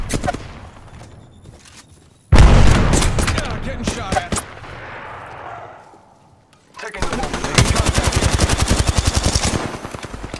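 Automatic gunfire in Apex Legends, with loud rapid bursts of rounds separated by a brief lull and then a longer sustained volley, and movement sounds in between.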